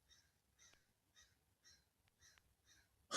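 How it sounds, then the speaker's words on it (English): Outside a window, a crow caws loudly and repeatedly in an even rhythm, about seven harsh calls in a few seconds, with a faint low hum beneath. "There is a bird out my window here that is losing his mind."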